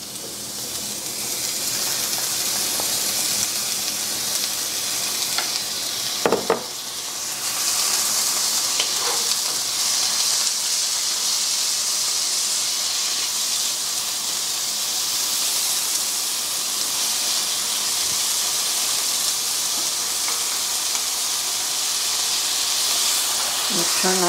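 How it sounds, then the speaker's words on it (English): Onions, garlic and peppers frying in olive oil, a steady hissing sizzle throughout with a couple of brief clatters partway through. "I'm going to cook up my onions, garlic, and peppers first"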